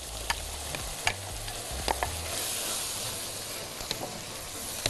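Vegetables go into a pot of browned minced meat for rice with béchamel, setting off a loud, close sizzle with scraping stirs and a few sharp clicks of the spoon against the pot.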